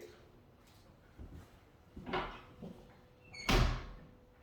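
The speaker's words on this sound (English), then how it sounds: "I'm gonna close this door." An indoor door swings shut, with a few soft knocks and rustles leading up to a firm close and latch thud near the end, close by in a quiet room.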